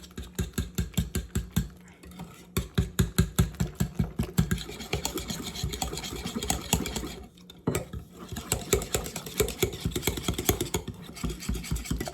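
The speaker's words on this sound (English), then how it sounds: "Now we are going to stir all this together. I'm just going to whisk it." A whisk beats banana cake batter in a bowl with fast, rhythmic clattering strokes, close and fairly loud, in bursts with short pauses between them.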